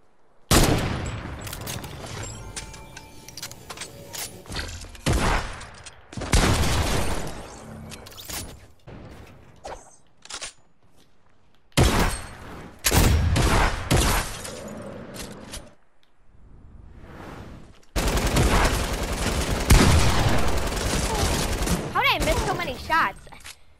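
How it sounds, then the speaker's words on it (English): Heavy video game gunfire comes in loud, dense bursts and rapid volleys, separated by short near-silent gaps, with a voice talking at times. "Literally took me 30 shots to kill you."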